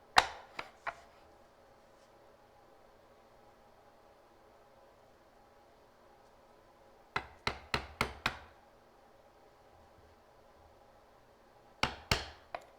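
A woodworking chisel chops into wood at a scribe line: a few sharp taps, then a quick run of five firm strikes, and later another short pair, quiet and close in a hushed workshop without talk.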